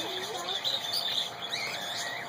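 Small birds chirp and tweet in quick, high-pitched bursts nearby, overlapping one another.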